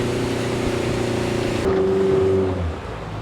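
A motorboat engine on a backwater drones steadily up close, its pitch holding then dropping as the motor eases off near the end while the boat is brought ashore.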